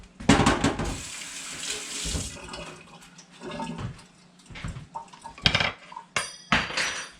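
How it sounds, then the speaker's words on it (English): A spoon drops into a kitchen sink full of washing water, with clattering dishes and cutlery, splashing and a running tap, loud and close, no talking. "dropped my spoon in the wash"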